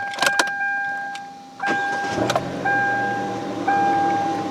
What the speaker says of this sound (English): We'll go ahead and start the vehicle up.